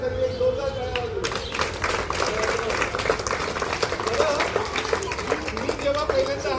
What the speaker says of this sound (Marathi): सगळ्यांसाठी एक जोरदार टाळ्या वाजवू